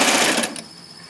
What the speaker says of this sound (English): When you get to the end with the serger, you actually want to run it off and create a tail.